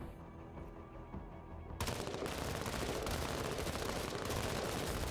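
Sustained heavy gunfire in the video game Menace erupts suddenly after a quieter stretch, then continues as a dense, loud, unbroken roar of shots and impacts.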